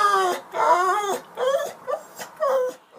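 A dog vocalizes in a run of short, whiny, talk-like yowls and whimpers, four or five close, clear bursts with brief pauses between them.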